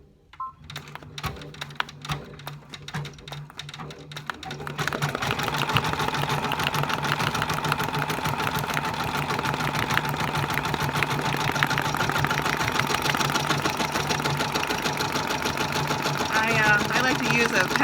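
A Brother Persona PRS embroidery machine stitches a hat hooped flat in a 4 x 4 hoop, a steady loud mechanical whir with rapid needle chatter running continuously after a few seconds of quieter clicks and handling.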